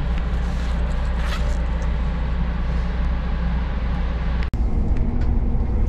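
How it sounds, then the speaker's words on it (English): Steady rumbling cabin noise inside a moving bus travelling between trains on a trip across the Mexico border, continuous engine and road drone with a sharp brief knock near the end. "I'm on a bus now and we're headed to another train"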